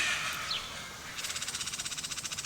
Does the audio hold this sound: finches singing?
yes